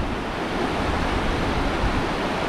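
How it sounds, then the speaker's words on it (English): Rapids and waterfalls on the White River in Ontario give a steady, dense, roaring rush of water with no pauses, broad and enveloping. "you can see the rapids, the final drop, some waterfalls"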